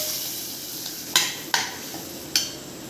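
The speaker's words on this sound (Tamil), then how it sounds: "இதை எடுத்து இந்த கடையில் அப்படியே கொட்டிக்கலாங்க." A sizzling tempering is poured into a pan of brinjal kadaiyal: a soft steady frying hiss broken by three or four sharp metallic clinks of a utensil against the pan, close and clear.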